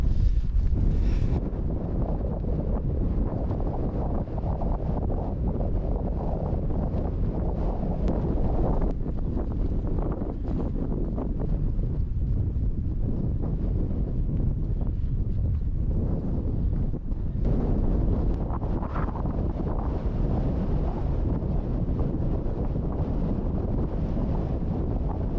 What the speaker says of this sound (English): It's still breezy and quite chill in the air actually with the wind.